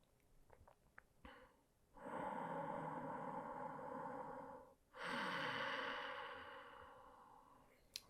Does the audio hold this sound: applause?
no